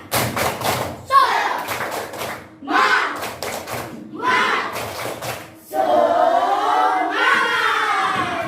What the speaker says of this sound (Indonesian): Yuk kita sama-sama tepuk semangat terlebih dahulu.